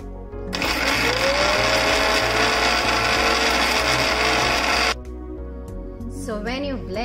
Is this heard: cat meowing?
no